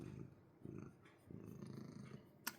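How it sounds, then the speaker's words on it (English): A house cat purrs close by in a basement, a soft low rumble repeating in steady breathing cycles of roughly half a second, with a faint click near the end. "here's the cat"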